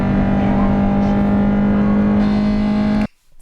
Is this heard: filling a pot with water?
no